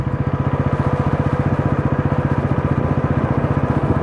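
A Bajaj Pulsar NS 400 motorcycle with a 400 cc engine thrums steadily while riding, its rapid, regular beat loud and close and unbroken, with no voices.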